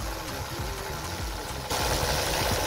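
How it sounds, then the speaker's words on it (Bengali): A motorbike rides along Talsari beach near Digha, its engine a steady low rumble with a rhythmic throb that grows noticeably louder partway through, close by with no talking. "এই বিচের মধ্যে দিয়ে আমরা বাইক নিয়ে যাচ্ছি"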